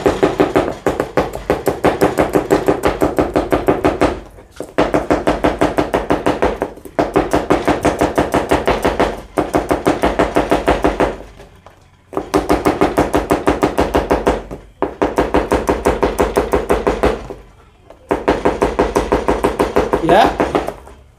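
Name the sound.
fast knife chopping of shallots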